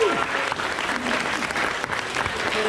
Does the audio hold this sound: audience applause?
yes